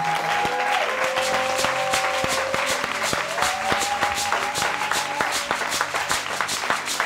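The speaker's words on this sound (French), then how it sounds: "On acclame très fort le Seigneur." A church congregation at a Sunday service claps and cheers in sustained, dense applause, with a held tone from musical instruments running underneath.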